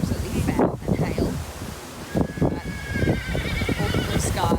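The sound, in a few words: strong wind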